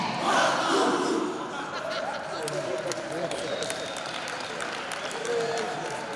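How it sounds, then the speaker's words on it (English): Cheering and applause from a crowd at the official opening ceremony of the Zone VI volleyball championships in Limpopo, South Africa, a steady roar of voices with clapping throughout and calls rising above it. "Let's give them a round of applause"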